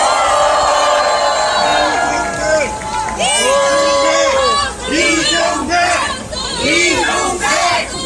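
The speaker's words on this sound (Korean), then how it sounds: "크게 환호로 환영 부탁드립니다." A large crowd at a Save Korea political rally in Cheongju cheers and shouts loudly and continuously, with raised voices and yells rising and falling over a dense, steady roar.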